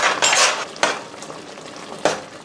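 Chili powder and salt being stirred into cooking tomatoes for tomato pickle, with a few scraping spoon strokes against the pan over a soft sizzle, close and fairly loud, no talking.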